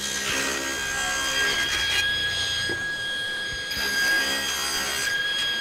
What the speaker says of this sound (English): I'm going to cut it once on one side, flip it over, and cut it on the other side.